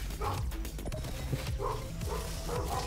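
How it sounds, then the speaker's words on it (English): A pet dog barks and yips in a home while a video game plays, with several sharp barks spaced irregularly over a steady background, fairly faint and not close. "I don't know why my dog is barking."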